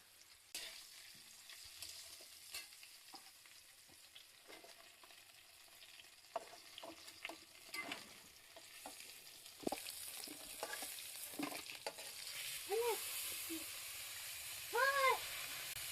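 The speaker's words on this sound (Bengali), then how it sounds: "আর একই সাথে আমি সজনে ডাঁটাও কষিয়ে নেব।" Drumstick vegetable pieces sizzle in oil in a wok, with a soft steady frying hiss broken by repeated scraping and clinking stir strokes that grow louder later, plus a few brief squeaky knocks near the end.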